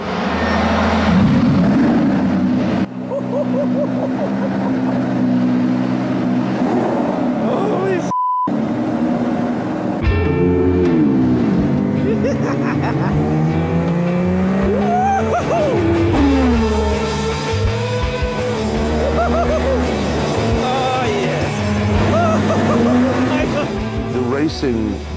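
Ayrton Senna's mid-1980s McLaren Formula 1 car driven around a track, its engine note rising and falling steadily through gear changes and corners, loud and close throughout, with a brief dropout partway.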